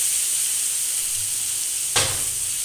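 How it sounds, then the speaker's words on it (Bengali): Cut potatoes and onions fry together in a kadai over a low gas flame, giving a steady soft sizzle and hiss with a louder burst near the end, no voices. "কেটে ধুয়ে রাখা আলু আর পেঁয়াজটা একসাথে আমি এবার ভেজে নেব।"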